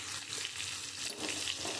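Spices frying in oil with ginger and potatoes, a soft, steady sizzle and light stirring scrapes, fairly quiet and close, with no talking.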